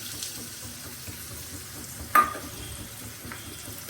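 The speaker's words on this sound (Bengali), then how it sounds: "এবার পেঁয়াজগুলো ভালো করে ভাজা ভাজা হোক" A steady soft sizzle of chopped onions frying in a pan, with one sharp clink of a utensil partway through.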